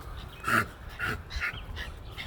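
A young puppy yips and whimpers in a few short, high-pitched bursts, faint and close, with quiet room noise between the cries.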